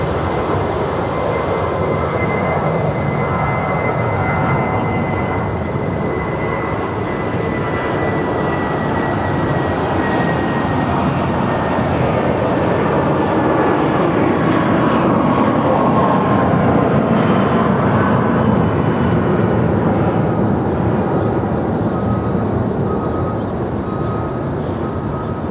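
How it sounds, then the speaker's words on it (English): Steady jet engine whine and rumble from an Asiana Airlines A350-900 taxiing at Los Angeles International Airport, a continuous drone with a faint tonal hum that slowly drifts, no talking. "Asiana Airlines A350-900 making her way over here to the south side."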